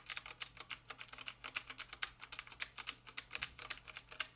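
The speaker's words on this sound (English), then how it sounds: "So obviously these are the clicky ones, Cherry MX Blue." Rapid typing on a Ducky One 2 keyboard fitted with clicky Cherry MX Blue switches, a steady run of sharp, crisp key clicks close to the mic with no talking.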